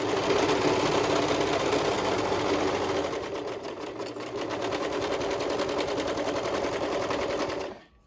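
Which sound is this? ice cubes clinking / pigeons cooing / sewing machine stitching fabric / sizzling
sewing machine stitching fabric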